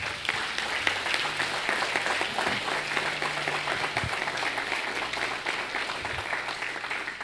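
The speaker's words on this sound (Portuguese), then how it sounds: "Vamos aplaudi-lo então" Church congregation at a worship service gives sustained applause, a dense, even wash of clapping holding steady throughout, with faint voices and tones underneath.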